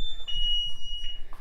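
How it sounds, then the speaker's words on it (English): A high, piercing electronic car alarm tone from a Lamborghini Murcielago Roadster sounds in short sustained beeps, loud and close, with low rumbling noise underneath. "now the alarm's gonna go off if I don't get the key"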